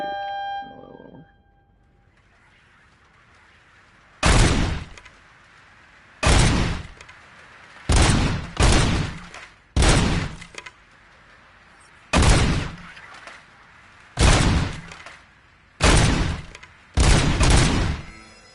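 Gunshots ring out at a firing range in RoboCop: Rogue City, nine loud, sharp reports spaced irregularly over quiet room tone, some in quick pairs.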